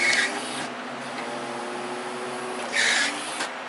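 A forklift operated by pressing both of its buttons, running with a steady mechanical hum and whine and two brief louder rasping bursts, heard close with no talk.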